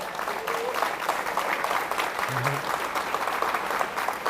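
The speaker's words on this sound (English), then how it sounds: "give a round of applause for Yoshiko" Steady applause from an audience at a youth bouldering championship final, welcoming a visiting guest coach. The clapping holds even and continuous throughout, with a faint voice briefly heard over it.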